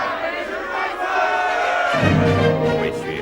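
A large crowd shouts and cheers loudly and continuously, the roar growing fuller and deeper partway through.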